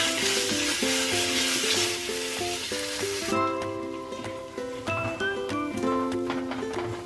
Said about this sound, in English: I've been frying this onion for almost 8 minutes on high flame.